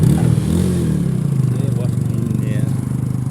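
A motorcycle engine on an extreme offroad ride drones loudly and steadily close by, with a rough pulsing rumble and rattling.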